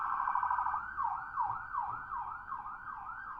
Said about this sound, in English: Sorry about the alarms.